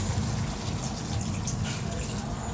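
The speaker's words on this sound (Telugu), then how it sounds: "వాటర్ పోసుకొని" Water from a glass pours into a pan of chicken curry as it cooks, making a dense, continuous splashing rush at close range for the whole stretch.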